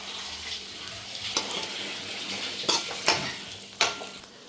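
Onion and tomato sautéing in hot oil for a chicken gravy, a soft, steady sizzle broken by a few distinct clinks and scrapes of a utensil against the pan.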